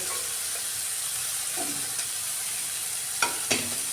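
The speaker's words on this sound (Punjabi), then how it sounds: "ਤੇ ਇਹਨੂੰ ਟਮਾਟਰ ਨੂੰ ਆਪਾਂ ਭੁੰਨ ਦਿੰਨੇ ਆ" Tomatoes sautéing in a pan while cooking a boiled potato curry: a steady, soft sizzle with a few clicks and scrapes of stirring near the end.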